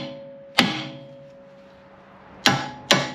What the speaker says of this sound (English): I'm gonna use a hammer, tap it right here.